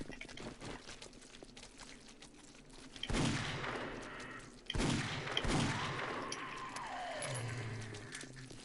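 Shotgun blasts in the video game 7 Days to Die, with two or three sharp, booming shots spaced a second or so apart over quieter game ambience, heard at moderate volume.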